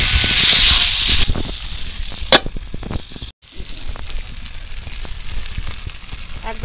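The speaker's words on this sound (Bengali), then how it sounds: "এবারও ঢাকা দিয়ে দিয়ে আরও আমি কিছুক্ষণ কষাবো, যতক্ষণ না মাংস ভালো করে একদম পুরো সেদ্ধ হয়ে যাচ্ছে।" Desi chicken curry sautés with masala in a covered pan, the kosha stage until the meat cooks through. A loud sizzling hiss opens, followed by a sharp crackle and a brief silence, then continuous close frying and popping.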